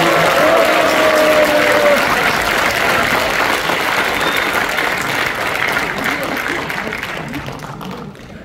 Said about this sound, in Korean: 여러분 큰 박수로 한번 모셔보도록 하겠습니다